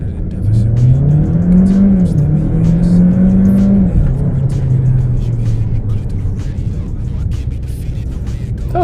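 An Alfa Romeo Tonale SUV, shifted manually with metal paddles on the steering column, builds to a rising engine note that shifts once and then eases into a fading hum, with faint tire noise.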